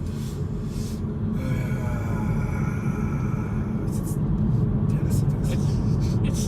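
A Hyundai Kona accelerating on the road, its steady engine and road rumble filling the cabin from up close, with people talking over it.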